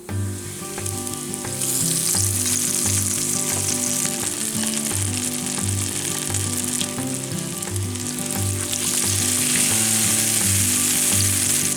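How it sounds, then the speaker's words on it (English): Buttermilk-soaked, flour-dredged pork chops fry in hot oil, giving a loud, dense, steady sizzle and crackle heard close up without any talking. "Hear that sizzle?"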